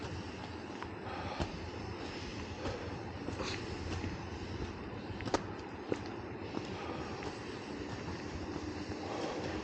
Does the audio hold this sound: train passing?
yes